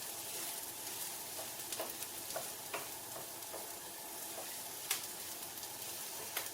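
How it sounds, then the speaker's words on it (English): Spoon stirring ingredients in a pot of Lebanese lentil soup, a steady soft scraping and sizzle with occasional sharper clinks, close and continuous with no talking. "just keep it moving, stir them in."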